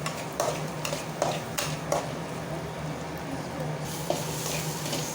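Fried onions and green chillies hiss in a pan as a utensil stirs them, giving a few sharp scraping clinks over a constant sizzle, with no speech.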